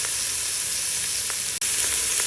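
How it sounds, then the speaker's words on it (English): Garlic and onions sautéing in an Instant Pot, a steady close hiss and crackle of frying with a few faint stirring taps. "I'm just going to toss it around in this garlic and onions"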